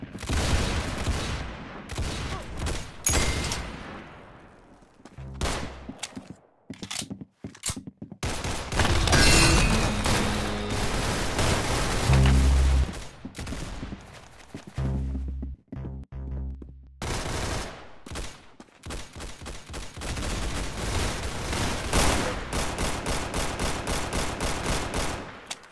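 Rapid gunfire bursts and single shots from a shooting video game, loud and punchy, with stretches of automatic fire broken by short pauses.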